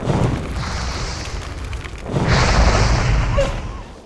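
A mage's fire spell in World of Warcraft Classic, two whooshing bursts of roaring flame with low booming rumble, the second longer and louder, close and without talk.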